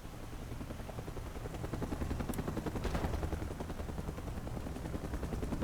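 Helicopter in the video game Mercenaries 2: World in Flames, a loud, steady rapid rotor chop building slightly louder, with no talking over it.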